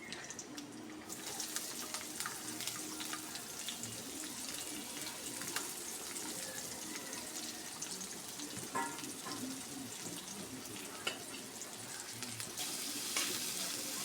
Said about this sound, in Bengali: এগুলো লাল লাল করে ভাজি নিবে